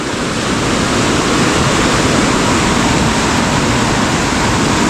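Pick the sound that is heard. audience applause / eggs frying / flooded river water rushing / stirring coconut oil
flooded river water rushing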